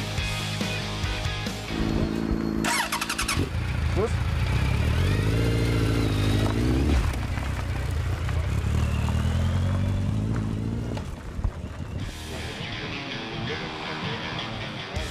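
A motorcycle fires up at a roadside police checkpoint, then revs and pulls away loudly, the engine note rising through gears before fading, with a brief word spoken near the start.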